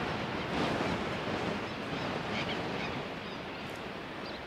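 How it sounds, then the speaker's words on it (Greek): Atlantic Ocean surf breaking on a sandy beach in Uruguay, a steady broad wash of waves with wind buffeting the microphone, continuous and fairly loud with no voices. "Αυτός είναι ο Ατλαντικός ωκεανός."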